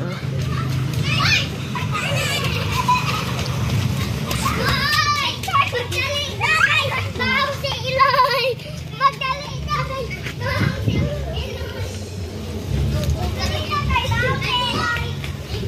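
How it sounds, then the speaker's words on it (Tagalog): Children play and shout outdoors in the afternoon near a neighborhood shop, their high voices overlapping continuously at moderate distance over a steady low background hum. "Tignan niyo yung paghapon ng mga bata naglalaro dyan."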